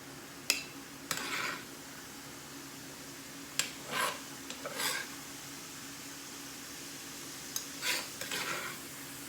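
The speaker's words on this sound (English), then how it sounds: "once the hamburger's brown, you're gonna put it in a bowl" Browned hamburger meat is scooped from a pan into a bowl: scattered scraping clinks of a utensil against the cookware, several short bursts separated by quiet gaps over a faint steady hum.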